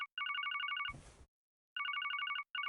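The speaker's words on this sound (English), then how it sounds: "Oh, phone's ringing." A telephone ringing in the video game Trails from Zero, with rapid electronic trill bursts repeating in clear pulses, broken once by a short burst of noise and brief silences.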